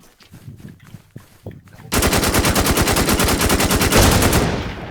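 Rapid automatic gunfire from a video game shooter erupts after about two seconds of quieter clicks and muffled action, then a loud, dense, continuous burst runs to the end, with voices talking faintly at the start.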